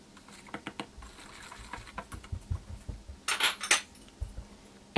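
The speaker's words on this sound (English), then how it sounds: "Whisk sugar with egg yolks." Egg yolks and sugar are whisked in a bowl with quick, light clicking taps of the whisk against the sides, in irregular bursts close by and fairly soft.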